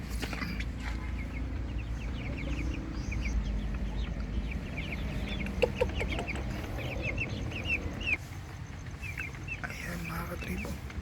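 Rhode Island Red chickens in a backyard coop, with soft repeated clucks and small calls over a steady low outdoor rumble and a faint background hum.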